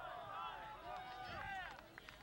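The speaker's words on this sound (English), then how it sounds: "And the third cheer for one's own club." A rugby team at a New Mexico Tech Black & Blue match cheers for its own club, a ragged chorus of voices rising and falling over open-air noise.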